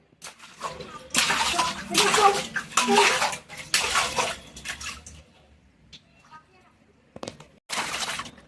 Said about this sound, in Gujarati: કોણ છોકરી છબછબિયા કરે?